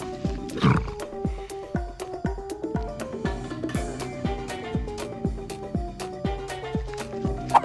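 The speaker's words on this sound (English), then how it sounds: "The benefit of having this many horses running through the street" A dense, rapid clatter of many hooves pounding hard ground, steady and loud, as a large group of horses gallops through a street close by.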